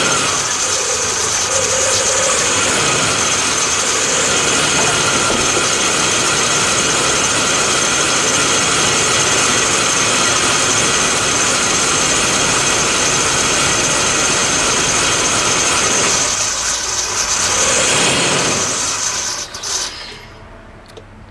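A Dodge Durango 4x4 with the 5.2 engine runs with its throttle position sensor unplugged, giving a loud, steady, close engine drone with a whining edge that shifts near the end and then fades.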